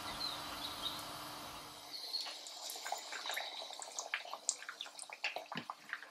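Chicken pieces coated in batter sizzle and crackle as they go into hot oil in a kadhai, the frying starting about two seconds in with dense, irregular pops over a steady hiss, close and fairly loud.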